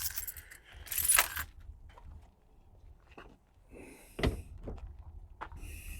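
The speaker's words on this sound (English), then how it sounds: "Let me take my keys." Keys jingle and clink in a few short bursts close by, with a light clatter and quiet handling noises between them.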